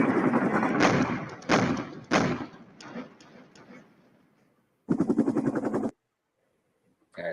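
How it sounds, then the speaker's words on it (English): Mortar rounds land in the wargame Flashpoint Campaigns: Southern Storm, a run of heavy thuds that fade through several seconds, then a separate sustained rumbling burst and a last onset at the end, with no talking. "It's probably mortar fire."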